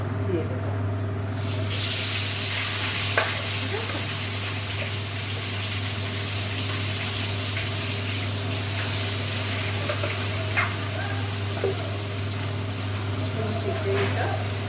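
Chicken pieces dropped into a hot pan to fry: a sudden steady sizzling hiss that holds for the rest of the stretch, with faint clinks and a low constant hum beneath.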